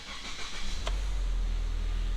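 A Ford Fusion's engine cranks and catches with a short burst near 0.9 s, then settles into a steady low idle rumble, close and alone.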